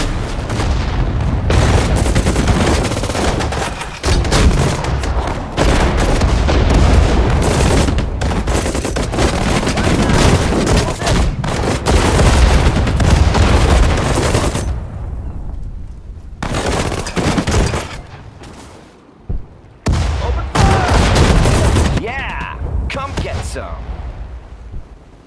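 Dense battlefield gunfire and booming blasts from units firing in the World War II strategy game Sudden Strike 4 at Guadalcanal, loud and nearly continuous, with brief lulls and a few separate bursts near the end.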